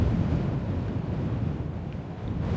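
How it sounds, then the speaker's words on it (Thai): Steady low wind roars and rumbles throughout in the indie horror game The Open House, a dense continuous whoosh with no voices. "เสียงลม"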